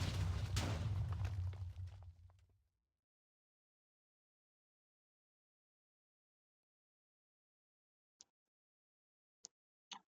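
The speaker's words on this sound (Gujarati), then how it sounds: "આને સારો ધમાકો કર્યો જોવાનો" A Minecraft TNT blast gives a loud low rumbling boom that fades over about two seconds, then near silence broken by three faint brief clicks.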